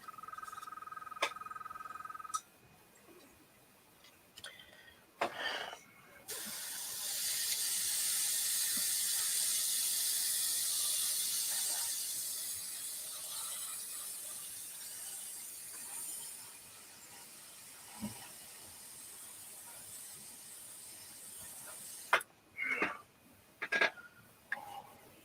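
A quick extra coat of spray paint on a paddy wagon hisses steadily for about ten seconds, with scattered clicks and knocks before and after.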